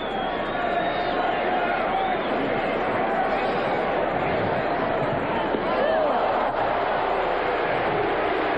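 A baseball crowd at the 1983 World Series, Phillies at Orioles, booing after a changeup at the batter's feet: a dense, steady stadium roar of massed voices throughout, loud and unbroken.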